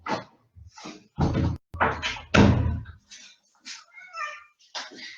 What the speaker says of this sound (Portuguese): vou abrir a porta pro gato